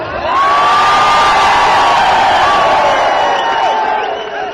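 A huge outdoor crowd at a BJP public meeting addressed by Narendra Modi in Khandwa, Madhya Pradesh, cheering and whooping loudly in a sustained roar with shrill shouts rising above it, near and continuous throughout.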